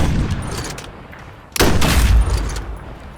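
A heavy sniper rifle fires in the first-person shooter Contractors Showdown: a loud, sharp blast lands about halfway through and rings out with a long, booming tail after a stretch of quieter game ambience.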